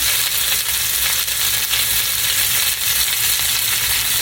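Chopped vegetables and cayenne pepper fry hard in hot oil, a loud, continuous sizzle with crackling spatter throughout and no voices.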